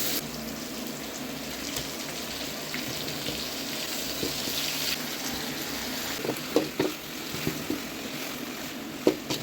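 Tomatoes frying with salt in a pan for a village-style chicken head and leg curry, a steady close sizzle with a few sharper crackles and pops toward the end, no talking.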